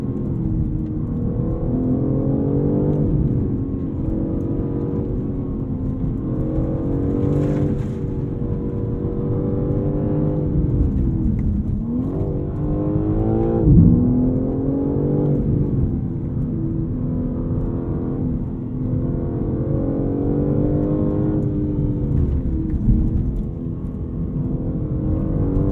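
A 2023 BMW M3 Competition xDrive's engine pulls hard under acceleration, a loud, continuous in-cabin roar with rising and falling pitch through gear changes and brief dips, sustained throughout with no talk.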